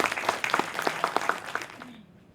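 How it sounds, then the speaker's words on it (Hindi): Audience applause at a book launch event, many hands clapping steadily and fairly faintly for about two seconds before fading out. "जोरदार तालियों के साथ स्वागत।"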